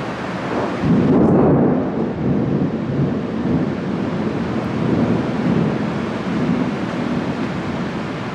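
Steady heavy rain with a deep rumble of thunder swelling near the start at Magic Kingdom, loud and continuous, with wind buffeting the microphone.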